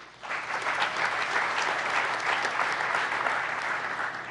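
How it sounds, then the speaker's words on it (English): A room full of community ambassadors at a mayor's forum breaks into warm, sustained applause, many hands clapping at once in a steady roar that swells quickly and holds for several seconds. "Give yourself a round of applause."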